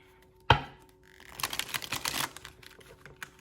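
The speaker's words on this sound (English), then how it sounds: "I'm shuffle this about 3 times." A deck of tarot cards is shuffled close up: a sharp tap, then about a second of quick riffling crackle, fading into a few light clicks in a quiet room.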